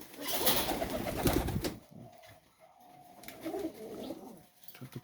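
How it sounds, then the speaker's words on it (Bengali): Racing pigeons at a farm coo in soft, low repeated calls, with an opening burst of splashing and wing flapping during a hot-weather bath before the cooing continues more quietly. "চমৎকার একজোড়া রেসার কবুতর দেখেন"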